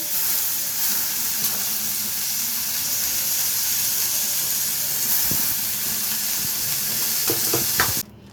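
Gobindobhog rice frying in ghee with a little garam masala for a pink pulao, giving a steady close sizzle and hiss with occasional stirring scrapes and a louder clatter near the end.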